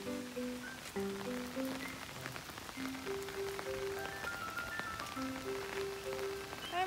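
Heavy rain falls outdoors in Japan during a dog walk, a steady, even hiss that runs throughout under a soft melodic tune.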